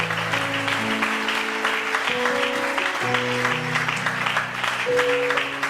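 An audience applauding at a seminar, dense continuous clapping under sustained music tones, with no speech.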